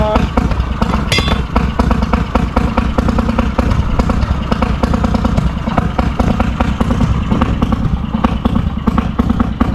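A Fairmont M9 railway motorcar's two-stroke engine runs on its first cold start after winter, a loud, steady rapid chugging and clattering with dense exhaust pulses and mechanical rattle, up close and without pause for the whole stretch.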